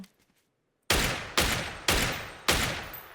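Four loud gunshots in the video game PUBG ring out at irregular intervals after a brief quiet moment, each sharp blast followed by a short echoing decay.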